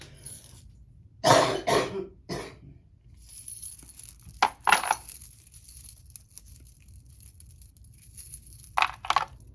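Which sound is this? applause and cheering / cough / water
cough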